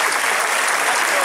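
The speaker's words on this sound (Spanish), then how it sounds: "Vamos a dar un fuerte aplauso a Pablo también" Brief burst of steady audience applause for a man named Pablo at an evening event, dense and even, with voices faintly mixed in.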